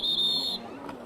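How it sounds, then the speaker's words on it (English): A single sustained whistle blast from a race official at a British JetSport Championship jet ski race, loud and steady for about half a second before cutting off, leaving outdoor background noise. "We hear the whistle being blown."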